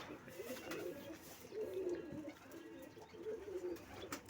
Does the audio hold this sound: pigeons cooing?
yes